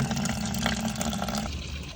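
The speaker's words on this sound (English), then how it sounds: "while I'm going to pour this one out" Water pours steadily out of a bucket that holds some soil, a continuous splashing gush lasting the whole moment, close and fairly loud.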